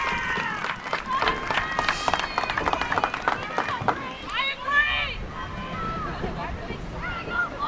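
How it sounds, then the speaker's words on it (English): A crowd of spectators at a women's soccer game against William Paterson in southern New Jersey reacts with shouts and cheers over a mix of overlapping voices, fairly loud and close. "Crowd reacting."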